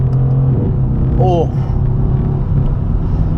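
Close, loud engine rumble from a Mercedes sports car under acceleration, steady throughout, with someone talking over it.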